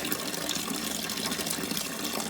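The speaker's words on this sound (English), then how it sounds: "The whole time all this water you're washing your hands with is going down in the toilet tank" Water from a DIY gravity-fed $15 sink runs steadily down into a toilet tank, a continuous, fairly loud rushing and splashing fill with no pauses and no talking.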